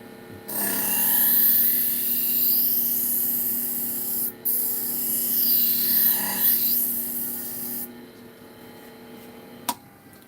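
A knife blade is ground on a power grinder to cut a new bevel: a sustained, loud abrasive whine with a steady pitch, briefly interrupted in the middle, then stopping near the end with a small knock.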